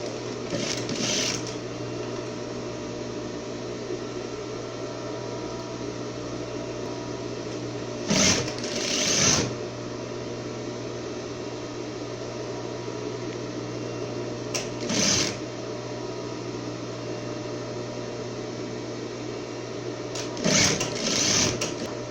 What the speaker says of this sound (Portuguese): Costurar com meio centímetro, que é a costura que vai ser costurada a overlock.